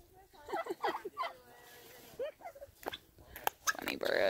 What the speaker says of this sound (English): Funny birds.